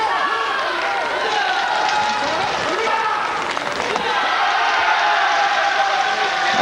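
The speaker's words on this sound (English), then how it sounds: "there's the embassy staff for the big cheer" Embassy staff cheering from the crowd at the 2002 World Weightlifting Championships, 62 kg clean and jerk, with a steady roar of cheers and clapping running through the clip under a commentator's voice.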